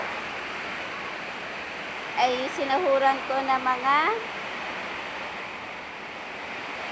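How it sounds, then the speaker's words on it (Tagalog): Very heavy rain pours down on a house with a leaking roof, a steady loud wash of water throughout with someone speaking briefly over it partway through. "Sobrang lakas ng ulan."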